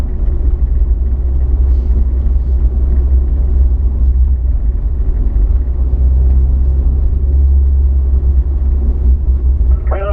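Several Corvettes idling together after a performance driving school session, a loud, steady low engine rumble that holds evenly throughout with no talk.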